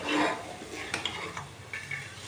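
Misal bhaji is stirred and roasted in a pan, with a spoon scraping and clinking against the metal over a low, quiet sizzle, a few distinct knocks standing out.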